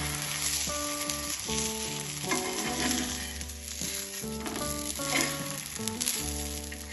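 A wheat-dough roll filled with spiced potato fries in hot oil, giving a steady, dense sizzle that runs the whole time under loud music, with no talking.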